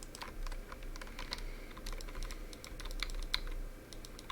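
Rapid clicking of a computer keyboard as someone types dice-roll commands during an online tabletop roleplaying game session: a close, uneven patter of keystrokes with short pauses, no talk over it.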